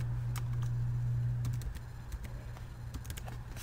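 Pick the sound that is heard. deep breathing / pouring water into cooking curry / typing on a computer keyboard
typing on a computer keyboard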